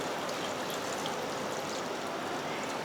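Water pours steadily into a pot with salt in a continuous rushing stream for a few seconds, fairly close and even in level, with no voices.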